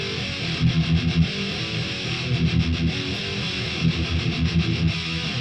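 Electric guitar, an EET FUK replica (MX220), played through its pickups with a slightly driven tone, strummed chords and short riffs repeating in bursts at steady loudness, close and alone without talk.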